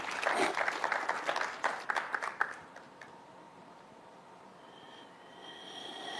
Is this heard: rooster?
no